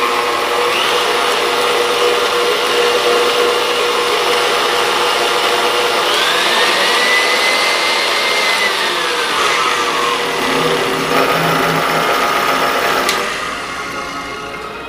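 An electric stand mixer runs loud and steady through banana bread batter, its motor whine rising and falling as the speed shifts, then dropping in level near the end.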